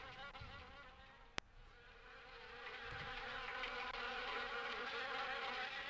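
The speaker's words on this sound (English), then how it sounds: "The attic window is the perfect nesting ground for wasps." Wasps nesting in an attic in the game Harvester, a constant, droning insect buzz that swells slightly louder toward the end, with one sharp click early on and no talking.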